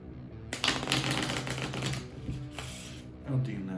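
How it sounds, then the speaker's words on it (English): Playing cards riffle-shuffled by hand at a tabletop during a solo board game session, a dense rapid flutter of card edges running for about three seconds at close range, with a few soft taps near the end. "so I need to randomly shuffle here just to get my first 6 cards."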